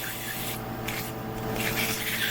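A wooden snowman is hand-sanded with 150-grit sandpaper, giving a quiet, continuous scratchy rubbing with brief pauses between strokes and no talking.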